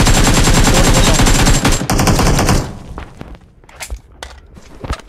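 Machine gun fire in PUBG roars in a dense, loud, continuous burst, then thins into scattered sharper shots and thuds, with footsteps faintly beneath.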